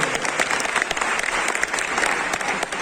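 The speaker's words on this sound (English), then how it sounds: "So a round of applause for Asma Group" Loud, continuous clapping from a lecture audience in Ankara, Turkey, a dense patter of many hands throughout the short stretch.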